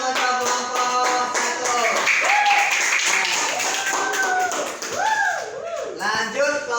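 A classroom audience claps for a group, the uneven patter of hands mixed with lively chatter and voices throughout.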